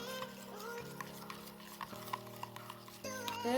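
Sugar is stirred into beaten egg in a bowl for egg pitha, giving soft, quiet scraping and clinking strokes under steady background music.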